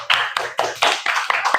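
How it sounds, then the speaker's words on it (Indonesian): Classroom applause during a coding lesson, a short burst of brisk hand clapping with irregular sharp claps, close and fairly loud, no talk. "Beri tepuk tangan."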